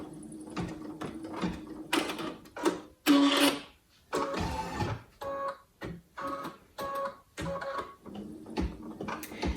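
A Brother Innovis V5LE embroidery machine stitches a design onto a tea towel with rapid clattering, printer-like bursts of needle strikes separated by brief pauses. It is close and fairly quiet, with no talking.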